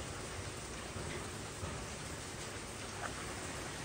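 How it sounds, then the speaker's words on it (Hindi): Steady rain hisses evenly throughout, a constant wash of falling water with no voices. "बारिश का मौसम है देख"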